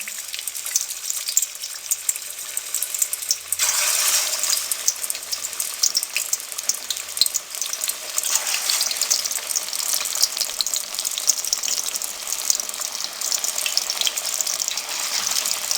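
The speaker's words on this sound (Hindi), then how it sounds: "अब इसमें हम चपली कबाब डाल देंगे।" Chapli kebabs fry in hot cooking oil in a kadai, a loud, steady sizzle that intensifies sharply as they go in and keeps crackling close up without pause.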